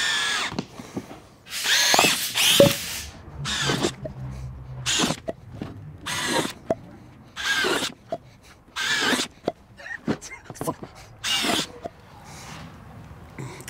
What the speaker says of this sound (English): So what we're going to do is we're going to start by drilling holes this way.